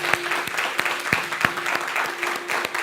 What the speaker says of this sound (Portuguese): E eu queria pedir que nós dessemos agora uma salva de palma bem forte para estas queridas pessoas